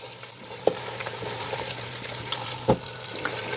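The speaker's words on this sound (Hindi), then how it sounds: "और अब हमने जो है इसको 2 से 3 मिनट तक जो है टमाटर को भूनना है" Tomatoes and green chillies frying in a pan for a spicy liver masala, with a steady soft sizzle and a couple of sharp stirring clinks partway through, no talking.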